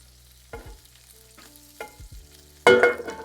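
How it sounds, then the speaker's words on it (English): Prosciutto sautéing in its own fat in a pan with no oil, heard as a few soft stirring scrapes and light sizzling bursts, ending in a louder close burst of frying crackle. "I'm gonna saute some prosciutto"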